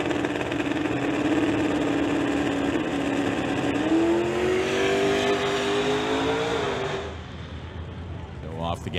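A drag race car on a test pass down the track, lifting off the gas partway and coasting through at about 96 mph; a steady engine drone that shifts in pitch and then fades, heard under ongoing commentary.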